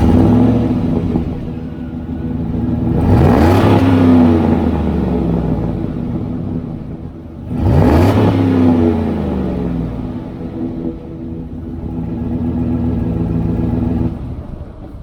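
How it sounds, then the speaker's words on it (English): A Chevrolet Silverado or GMC 1500 pickup on its factory exhaust idles with a steady low rumble, broken by two loud revs that rise sharply and fall back, heard close with no talk. "So here's a sound of just the factory exhaust."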